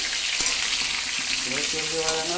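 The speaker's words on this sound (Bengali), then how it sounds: "তো আলুটাকে আমি একটু ভাজবো" Steady broadband sizzling of potatoes frying in oil, with a few faint clinks and a low voice briefly audible underneath.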